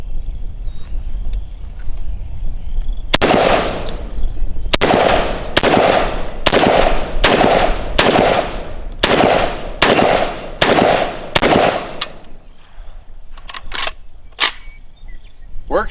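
Kalashnikov USA KS-12T shotgun firing 1-ounce loads outdoors, about ten loud, booming shots in a steady rapid string over wind noise, followed by a few fainter clicks.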